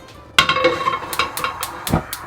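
A pan is set down on the stove with a sharp metallic clank close by, followed by several lighter clinks and taps of metal against the hob.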